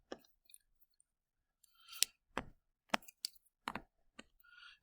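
A pen scratches on paper while sketching a curve, giving short, quiet scraping strokes and taps separated by silent gaps, close to the microphone with no talk.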